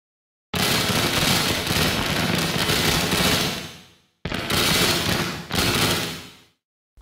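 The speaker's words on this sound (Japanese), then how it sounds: "この模様のあたりをマウスで行ったり来たりすることによってこの亀裂と表現された音を作ることができるようになっています" Two bursts of harsh, crackling synthesized crack sound effect, each a dense splintering crackle that fades out, separated by a brief silence.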